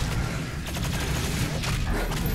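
Dense, continuous gunfire from enemies in Doom Eternal, a rapid loud fusillade of shots with booming low end that fills the whole moment without a break.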